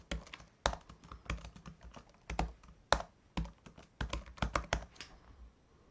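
Password typed on a computer keyboard: bursts of sharp, close key clicks in irregular runs with brief pauses, fairly quiet and alone with no talk.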